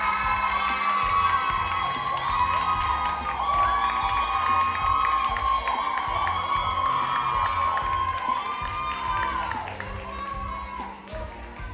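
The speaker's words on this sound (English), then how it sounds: "a big round of applause again for our outstanding directors from the National Drama Finals for 2025" Loud crowd cheering with whoops and shouting at a performing arts awards ceremony for school drama directors, honoring a national drama finals winner, sustained throughout and tapering slightly near the end.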